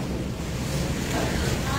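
A strong storm wind blows in a steady, loud roar that buffets the microphone, with a faint rattle in the background.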